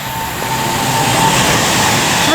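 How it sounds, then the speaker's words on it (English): A Pendolino train passes through Tamworth station on the West Coast Main Line, a loud, steady rushing roar of wheels and carriages sustained close by with no voices. "Pendolino."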